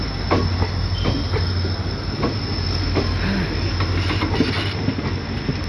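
An Indian Railways WDP4D diesel locomotive, number 40292 from the Izzatnagar shed, hauls the Bareilly City–Tanakpur passenger train close by with a loud, continuous rumble, rail clatter and squealing wheels.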